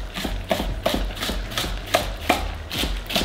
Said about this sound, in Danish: Så hakker jeg forårsløgene. Men dem skærer jeg også bare på sådan en skrå.